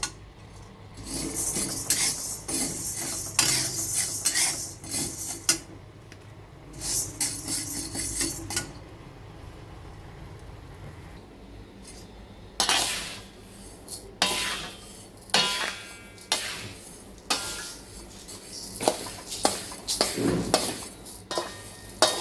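Poha flakes dry-roasting in a pan for chakli bhajani flour, with repeated scraping and stirring strokes of a spatula against the metal, bursts of scratchy rustle separated by brief pauses, close and fairly loud with no talking.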